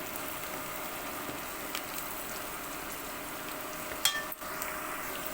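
Onions frying in a pan give a steady, soft sizzle throughout, close and even, with a brief clatter near the end and no talking.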